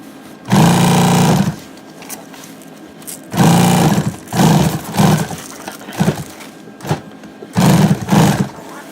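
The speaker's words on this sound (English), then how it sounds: "Finish sewing that up." Sewing machine stitching a plastic piece into fabric for an H 500 hauler, running in several short loud bursts of rapid mechanical whirring, close up, with brief pauses between runs.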